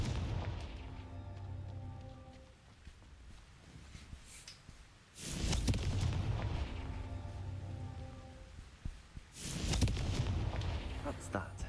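In Hogwarts Legacy, the Confringo explosive spell lands in two heavy booming blasts several seconds apart, each followed by a rumbling decay, with game voices and background sound running underneath.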